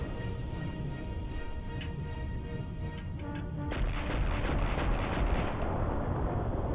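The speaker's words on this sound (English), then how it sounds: "Boom. Big explosion." Big explosion in the PS1 video game Return Fire, a dense rumbling blast swelling midway over ongoing gunfire-like crackle and game sound, loud and continuous.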